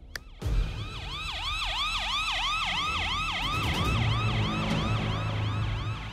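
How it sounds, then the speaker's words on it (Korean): An ambulance races through a narrow residential alley, its wailing siren sweeping up and down in rapid, regular cycles, loud and close over a low rumble of vehicle noise after a sharp knock at the start. "구급차 한 대가 주택가의 아주 좁은 골목길을 가로지르면서 다급히 어디론가 향하게 됩니다"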